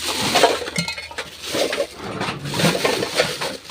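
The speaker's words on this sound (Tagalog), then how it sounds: "lagay po natin yung lata sa sako" Metal cans are dropped into a sack for recycling, a string of bright clinks and rattles at irregular intervals, loud and close, with no talk.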